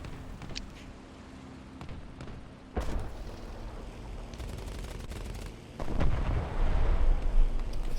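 A Ju-87 dive bomber's bomb bursts in a World War II air-combat video game during a tournament match, a heavy boom near the end following duller blasts and rumble, with constant battle noise underneath.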